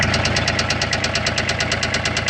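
A 2010 Kubota RTV 900 utility vehicle engine with about 4,290 hours knocks loudly and steadily at idle, a fast, even metallic tapping over a constant rumbling drone, close up and with no talk.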